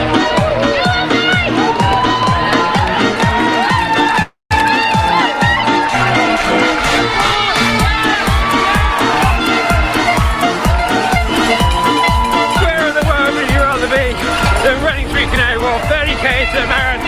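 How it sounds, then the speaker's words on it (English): A crowd cheering runners along the London Marathon course, a dense continuous roar of voices and shouts with a brief dropout early on, under steady talk close to the mic. "You can see a lot of the crowd are cheering for him"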